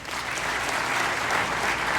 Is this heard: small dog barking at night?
no